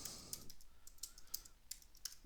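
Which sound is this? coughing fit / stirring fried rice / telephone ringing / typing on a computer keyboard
typing on a computer keyboard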